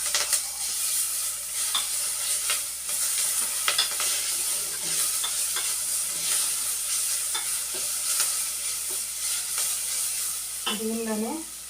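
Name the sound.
frying and stirring ginger garlic paste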